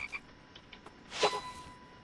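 A frog croaks in a video game, a short burst of croaks standing out clearly against a quiet background after a few faint blips.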